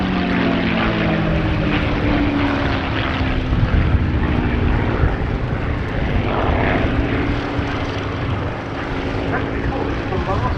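A North American P-51 Mustang propeller fighter flies at the Duxford Battle of Britain Airshow, its engine a loud, continuous droning roar that holds for the whole stretch, with announcer commentary underneath.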